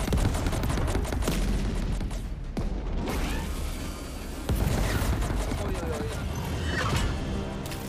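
Sci-fi space combat weapons fire in the game Chorus, a loud, dense barrage of rapid blasts, metallic crashes and mechanical whirs that runs continuously, with a voice speaking over parts of it.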